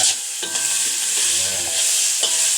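Chili and shallots stir-fried in a lightly oiled pan: steady bright sizzling with repeated scraping strokes of a spatula against the pan, fairly close, no voices.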